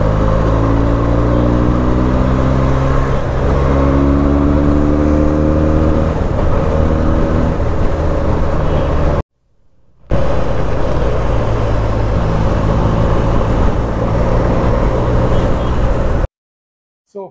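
A 2016 Benelli 300 motorcycle engine runs loudly and steadily with rising revs, close by, in two long stretches separated by a brief silence.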